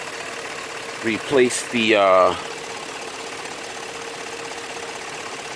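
2004 GMC Yukon engine idling with a steady low hum and faint mechanical chatter throughout, while someone speaks briefly over it near the start.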